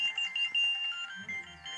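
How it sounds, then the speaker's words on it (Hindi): A phone ringtone plays indoors during a family drama scene, a steady electronic melodic tone repeating for under two seconds, moderately loud, with faint low voices coming in near the end. "ना फोन आ रहा है।"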